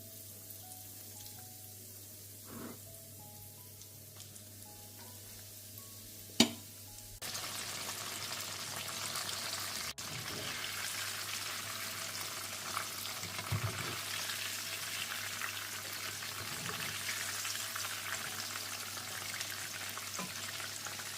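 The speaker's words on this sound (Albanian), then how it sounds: "vazhdojmë të fërgojmë filetat e pulës" Chicken fillets fry in hot oil over medium heat, a steady broadband sizzle that jumps louder after a sharp clatter partway through and then holds, with occasional crackles and utensil knocks beneath.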